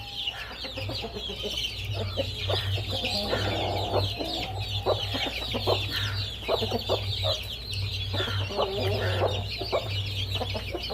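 Chickens and a rooster cluck steadily while pecking at chopped onions, a close, busy chorus of short repeated clucks over a low rumble of background noise.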